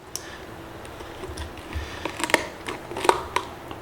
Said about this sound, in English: Now we're literally cutting through some bones.